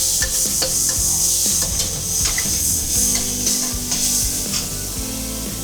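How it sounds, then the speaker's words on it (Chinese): Garlic, onion, green and red peppers and Sichuan peppercorns stir-fried in a hot wok over high heat. A steady, loud sizzle carries on beneath repeated scraping strokes of the spatula, with no talking. "翻炒30秒，炝出香味。"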